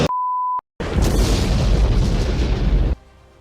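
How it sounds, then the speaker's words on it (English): A loud movie explosion from Die Hard erupts after a short steady beep, a sustained roaring blast lasting about two seconds before cutting abruptly to quiet. "decided to give them an explosion of his own"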